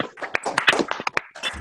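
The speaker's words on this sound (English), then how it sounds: "This round of applause is for all the health workers." Webinar participants clap for health workers, giving sparse, uneven claps and taps from a few people over an online call, close and fairly loud with some background chatter.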